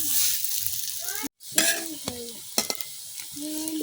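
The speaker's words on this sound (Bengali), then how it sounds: "এখন আমি বাকি যে বড়াগুলো আছে সবগুলো বড়া এইভাবে বাজালে" Papaya fritters (pakora) frying in hot oil, a bright steady sizzle broken by short stirring scrapes and clinks, close and clear, with no talking.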